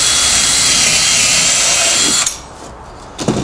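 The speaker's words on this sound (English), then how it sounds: "I'm just going to drill a hole in a bit of scrap here" A power drill with a 5mm bit boring into a piece of scrap wood, a loud, steady whirring grind for about two seconds that cuts off abruptly, followed by a short knock.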